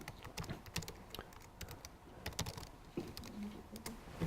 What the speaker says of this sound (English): You can simply just start typing.